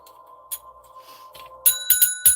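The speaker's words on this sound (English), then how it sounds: "Bell rang." A bell rings in quick succession near the end, three or four bright, sharp dings, preceded by a faint steady electronic tone with no voices.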